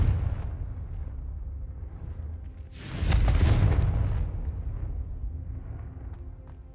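A Confringo fire-blast spell in Hogwarts Legacy erupts as a single loud, broad burst that rolls on briefly, over a steady low game rumble with no one talking.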